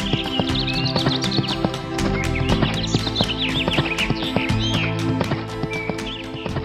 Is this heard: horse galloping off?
yes